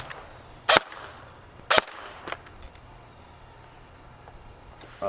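A Barra 400E Gen 2 electric BB gun fires on semi-auto: two sharp, snappy shots about a second apart, then fainter clicks and low background noise.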